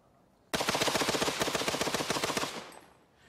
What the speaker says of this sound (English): The Maxim sprayed a wall of fire that cut down everything in its path.